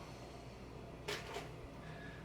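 A garbage can is pulled out from behind a kitchen cabinet door, giving a brief, quiet scrape and knock midway through an otherwise hushed room.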